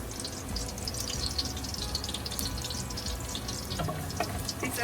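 Boiled water is poured into a cooking pot while preparing Afghan shola ghorbandi with onions, making a steady, fairly quiet splashing and trickling stream with no speech.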